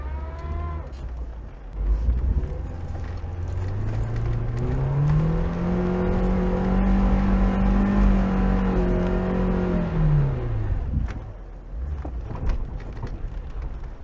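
A Niva 4x4 on mud tyres strains in mud while reversing, its engine revving up into a long sustained high drone, holding, then dropping away before smaller revs follow.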